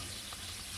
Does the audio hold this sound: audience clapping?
no